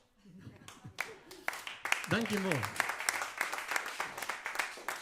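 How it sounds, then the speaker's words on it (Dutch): Concert audience clapping at the end of a song, a dense steady patter of many hands that swells after a brief spoken thanks and carries on evenly. "De meeste die ben je gewend dat aan het eind van een concertje wat mooi klappen."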